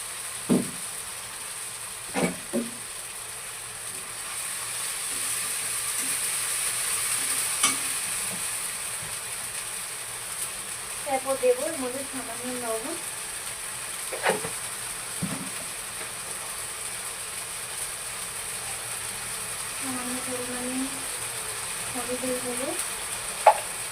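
Spice paste sautés in a pan for a Bengali home-cooked dish, giving a steady low sizzling hiss broken by occasional stirring scrapes and clicks, with brief faint voices.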